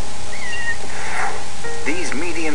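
An Egyptian Mau cat gives a few short, rising meows, with a louder, wavering cry near the end, heard close up beneath a speaking voice.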